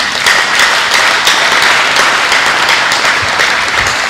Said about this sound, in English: Give a clap offering to God.